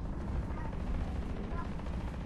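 Gunfire in the mech shooter video game Hawken: a continuous, heavy rumble of rapid shots and explosions, loud and low-pitched, with no pauses across the stretch.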